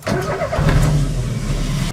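Ford Ikon 1.6 car engine running with a steady, close, continuous mid-low hum and no speech.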